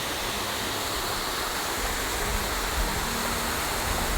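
Wildcat Wayside waterfall in South Carolina rushes in a steady, full broadband roar of falling water, close and continuous with no talk.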